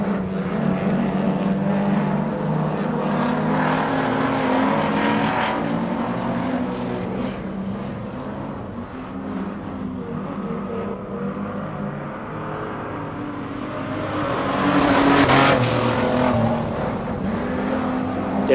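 Street stock race cars roar around a speedway during a night feature race, a steady loud engine drone with a car passing close and swelling louder near the end.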